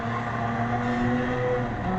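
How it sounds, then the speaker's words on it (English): Mazda RX-7 rotary engine in Gran Turismo 7, a steady, smooth buzzing drone holding an even pitch at moderate level with no voices. "that angry Dorito engine, that rotary engine. It's just a very distinct sound."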